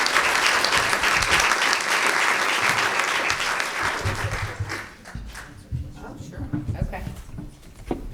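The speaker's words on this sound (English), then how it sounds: "Let's have a round of applause for our actors." At an annual forum, a large audience gives the actors loud, dense, sustained applause for about four seconds. The clapping then fades quickly, and people begin talking nearby.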